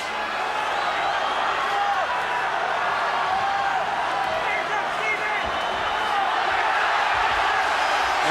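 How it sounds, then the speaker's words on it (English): A packed boxing crowd at a title fight roars continuously in a loud, dense wall of cheering as punches land, with a commentator's voice running underneath. "Every punch Collins lands being cheered to the echo by this court crowd."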